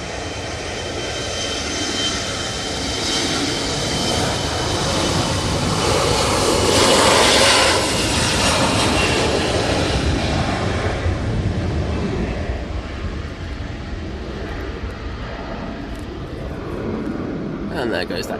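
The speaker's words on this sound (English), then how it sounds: "And there goes that KLM" KLM airliner taking off at Manchester Airport during Storm Floris, a loud roaring jet that builds to a peak and then slowly fades away, with people talking over it throughout.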